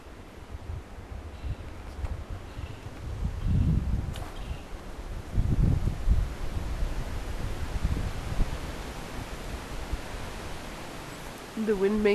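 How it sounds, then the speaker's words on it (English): Wind moves through leaves in a Costa Rican rainforest, giving a steady broadband rustle with gusty swells at moderate level and no talking. "The wind making it move."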